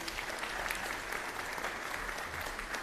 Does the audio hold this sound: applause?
yes